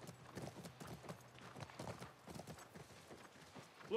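Horse hooves clip-clop at a steady trot in The Last of Us, a quiet, even rhythm of soft thuds with no voices.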